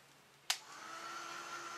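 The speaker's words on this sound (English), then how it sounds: "I'm just going to let this dry with my heat tool" A heat tool switching on with a sharp click, then a steady blowing whir drying paint on paper, held constant at moderate volume with no talking.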